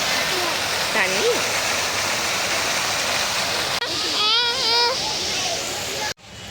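Water rushes steadily in a loud outdoor waterfall or stream, a dense continuous roar over the whole stretch, with people's voices and a child's playful calls rising above it before an abrupt cut near the end.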